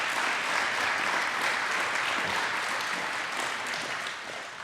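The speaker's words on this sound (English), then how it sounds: "Let's give our candidates for sheriff a round of applause." A crowd applauds candidates for sheriff at a local political forum: dense, sustained clapping that fills the whole stretch, loud and even before easing slightly at the end.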